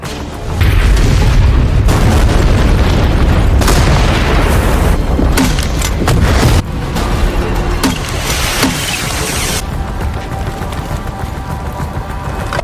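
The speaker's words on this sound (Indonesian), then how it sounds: "Tyler memulai melancarkan aksinya dengan membombardir persembunyian Jurab" Loud, heavy explosions from a bombardment of a hideout in the action film Extraction 2, booming blasts and crashing debris rolling continuously with rumbling low end and sharp bursts throughout.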